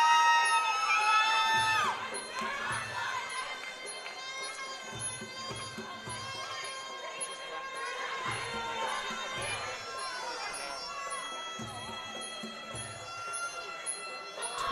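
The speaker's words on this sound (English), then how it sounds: "this crowd is out of control today. It's a full house and they're all pumped" A packed full-house crowd at a women's fight event cheers, whoops and shouts continuously, with loud excited yells at the start and the roar staying high while a commentator talks over it.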